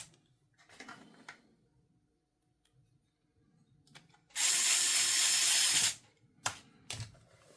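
A power screwdriver whirring steadily for about a second and a half while driving screws back into a Lenovo ThinkPad T480s laptop, between quieter clicks and handling noises.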